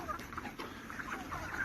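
A broiler chicken clucks while being weighed on a scale in a poultry house, giving a quick series of soft, close clucks and chirps.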